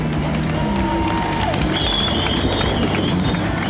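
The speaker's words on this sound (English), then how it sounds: "The two Jettas came home to rousing applause and salams from their pit crew." A pit crew at Red Star Raceway cheers and applauds two Jetta race cars finishing a GTC national series round. A dense, loud crowd roar with clapping continues steadily throughout the short moment.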